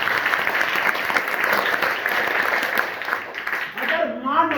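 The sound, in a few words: audience applauding loudly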